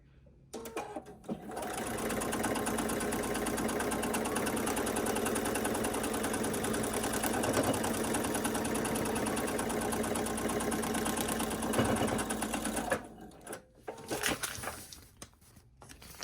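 A sewing machine stitches a fabric border at a shortened 2.0 stitch length, whirring at a steady fast pace for about eleven seconds, then slowing and stopping with a few short bursts and clicks.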